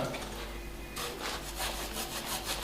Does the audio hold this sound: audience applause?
no